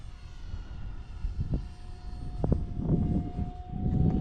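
An E-flite Habu SS radio-controlled jet on its maiden flight roars past outdoors, a loud continuous whoosh of ducted-fan engine noise that swells toward the end, with a steady high whine running through it.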